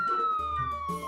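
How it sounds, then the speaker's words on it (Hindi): Sirens wail on a highway in a cartoon as three luxury official cars approach, a single steady tone sliding slowly downward with faint background noise, no voices. "ठीक 10 मिनट बाद हाईवे पर सायरन की आवाजें गूंजने लगी।"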